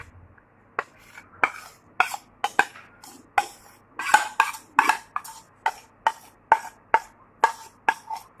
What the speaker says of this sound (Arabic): هنقلب المكونات دي كلها مع بعض.